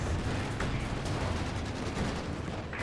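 T-34 tanks firing on a Panzer IV in a video game battle, a constant roar of distant cannon fire and explosions with a couple of sharper bangs, dense and unbroken throughout.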